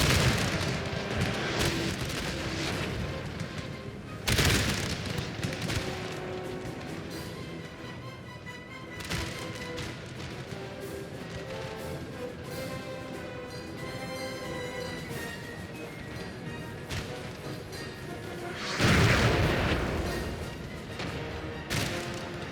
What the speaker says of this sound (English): That's my artillery doing the damage to myself. Come on, fire.